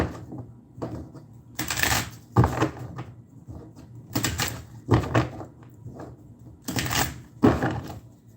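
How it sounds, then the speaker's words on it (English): A deck of oracle cards shuffled by hand in several quick riffling bursts separated by short pauses, close and fairly loud with no talk. "A couple of shuffles."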